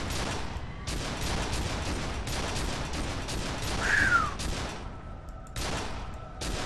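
Rapid gunfire in the video game F.E.A.R. 2, dense continuous bursts of shots with brief pauses and a ricochet-like whine, loud and close, no talk.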